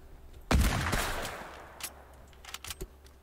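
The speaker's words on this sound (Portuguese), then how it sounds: "Para de atirar nessa merda." Gunfire in the video game Fortnite, a loud burst of rapid shots followed by a few scattered quieter shots, with no talking over it.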